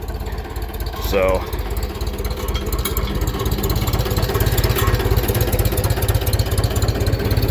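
Tractor engine idling below its normal speed with the PTO disengaged, a steady, close, low rhythmic thrum throughout, with a brief spoken word near the start.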